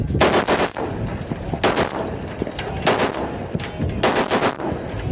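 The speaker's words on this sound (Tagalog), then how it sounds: "nagpaputok ng mga armas mula sa mga barkong kalahok sa isang gunnery" Naval guns on ships fire during a gunnery exercise at sea in the Balikatan 2024 maritime drills: loud, rapid bursts repeat about every second, with a rolling echo between volleys.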